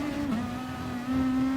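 A GR2-class race car engine at the Red Bull Ring in Gran Turismo Sport, a loud steady drone that dips briefly as it shifts gear, then holds firm at high revs, with no talk.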